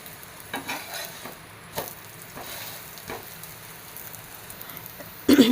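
Wheat-flour aloo paratha frying in an oil-brushed pan, with a steady soft sizzle broken by a few light scrapes and taps as it is turned, and a louder burst of crackle near the end as more oil is sprinkled on.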